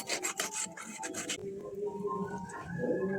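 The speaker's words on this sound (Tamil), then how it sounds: "இந்த மாதிரி தோலை பிச்சு எடுத்துருங்க தோலை அழகா உரிச்சு எடுத்துடலாம்" Skin is torn off a red fish by hand, a quick series of rough rasping rubs for about a second and a half, then a quieter stretch.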